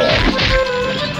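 In the video game Clay Fighter 63 1/3, a belly launcher attack lands as a single hard smacking whack, brief and loud, with game music and effects ringing underneath.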